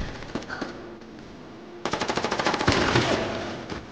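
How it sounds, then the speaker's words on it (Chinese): Rapid submachine gun bursts in a police action drama shootout, a few scattered shots followed by a loud, sustained stream of close automatic fire. "那两把微冲的火力太大了"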